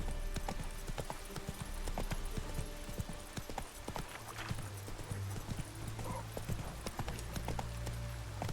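Roach, Geralt's horse in The Witcher 3, trots along with a steady, rhythmic clip-clop of hooves, close and continuous over a low ambient hum.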